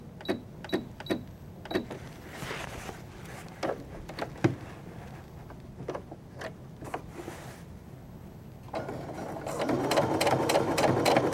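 A home sewing machine fitted with an edge stitching foot runs top stitching along a seam, starting with a few quick separate needle strokes, then pausing and buzzing into a steadier, louder run of stitching, close and clear.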